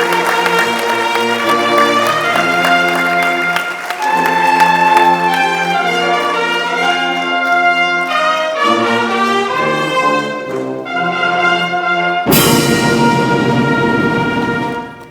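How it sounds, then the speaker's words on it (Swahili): An audience at a national development-vision launch ceremony breaks into a sudden burst of loud applause near the end, following a long stretch of brassy band music that plays alone. "makofi mengi na vigelegele"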